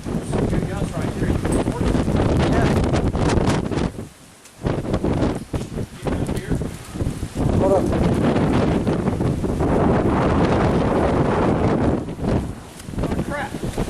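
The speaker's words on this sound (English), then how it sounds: "Good gusts right here." Strong wind gusts from Hurricane Hermine at St. Marks, Florida, roar and buffet the microphone almost continuously, easing briefly before surging back, while people talk and shout over the noise.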